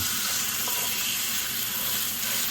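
Pork tenderloin sears in a hot pan at home, a steady dense sizzle holding evenly from start to finish with faint crackles, close by and without talk.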